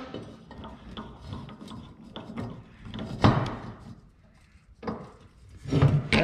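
A hand file rasps across a small hump on a Wisconsin engine cylinder head clamped in a vise. Uneven scraping strokes come close and fairly loud, with short pauses between passes.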